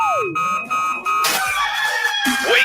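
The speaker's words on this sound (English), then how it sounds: "Damn rooster didn't crow." A rooster crows loudly and close on a Nebraska morning radio show, a drawn-out cock-a-doodle-doo with rising and falling cries, mixed with bright tonal alarm-like sounds.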